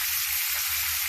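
Scallops sear in a hot frying pan, giving a steady, dense, hissing sizzle close up with no pauses.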